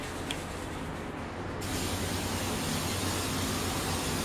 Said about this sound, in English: Give it a nice coating of your cooking spray.